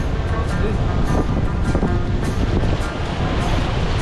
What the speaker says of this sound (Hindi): पानी का बहाव बहुत ज़्यादा है। पानी की लहरें, बहाव नहीं लहरें